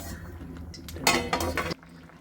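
Chilli chicken with capsicum being gently stirred in a pan: a short run of soft scraping and light clinks of a utensil against the pan, moderately close, with no talk.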